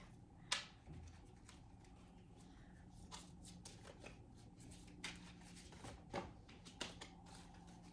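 Oracle cards are shuffled by hand at close range, giving quiet riffling and snapping card flicks in irregular bursts, with one sharper slap near the start.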